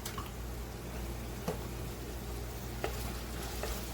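Ground meat browns in a pan with a steady, soft sizzle and a few faint clicks of stirring, quiet and close, with no voices.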